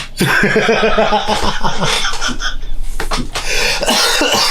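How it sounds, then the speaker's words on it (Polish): A person coughs harshly several times at close range, the fit broken up by snickering laughter. "jeszcze mnie kaszel dusi"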